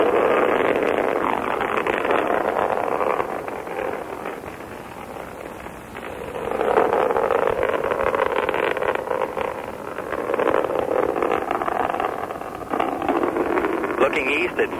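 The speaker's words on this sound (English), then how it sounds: "The engines are continuing to burn well, reports Launch Control Center here at Cape Canaveral Air Station." Atlas II rocket engines burn during launch at Cape Canaveral Air Station, carried over an AM radio broadcast as a continuous, loud, muffled roar with rushing noise that swells and dips slightly across the whole stretch.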